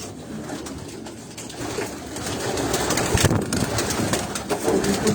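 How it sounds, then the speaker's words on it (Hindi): Racing pigeons coo in a loft, their soft, throaty calls repeating close by over a low, steady background hum that grows slightly louder toward the end. "वो जो 2 कबूतर बैठे हैं"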